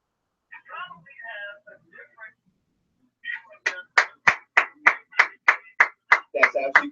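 Hands clap about a dozen times in a quick, steady rhythm, loud and close, with someone speaking briefly before the claps begin.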